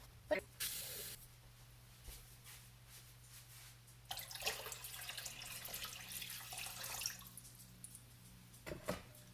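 Tap water gushes into a big cooking pot being filled to boil a single egg, with a short spray burst near the start and a longer stretch of hissing, splashing flow in the middle, close by.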